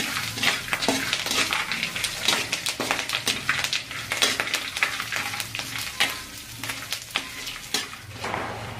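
Murmura chivda mixture with curry leaves is stirred in a hot frying pan, a busy scraping, rustling sizzle broken by quick clinks of the spoon against the metal.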